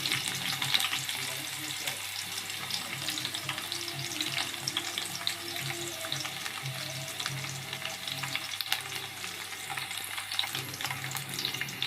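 Green chilies, onion and curry leaves frying in oil for a village-style fish curry, a dense continuous sizzle with crackling pops throughout, close and steady, no one speaking.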